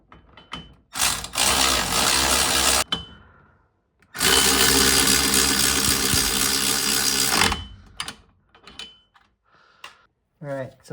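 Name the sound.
power tool tightening Toyota Corolla wheel bearing bolts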